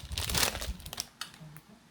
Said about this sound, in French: on va déballer pour voir ce que c'est